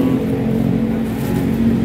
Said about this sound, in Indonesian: unit bus Minang dari ibu kota ya, teman-teman